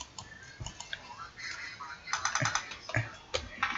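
Fingers tap out a Wi-Fi network name on a computer keyboard: close, irregular bursts of crisp key clicks, some in quick clusters and others spaced apart.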